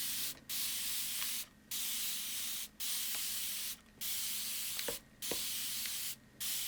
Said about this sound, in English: Now I'm going to spray it down,